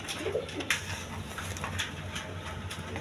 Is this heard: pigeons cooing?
yes